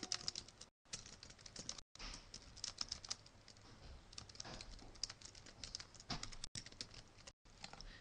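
Keys clatter on a computer keyboard as text is typed into a Word document header, giving a close, quiet, continuous stream of rapid clicks with a few brief pauses and no speech.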